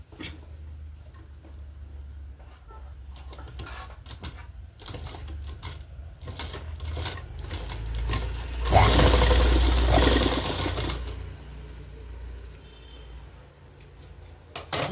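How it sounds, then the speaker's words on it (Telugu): A sewing machine stitching a blouse shoulder seam runs in one loud burst of about a second and a half midway, set among quiet clicks and fabric handling before and after. "ఇక్కడ ఇంకొంచెం కుడదాం"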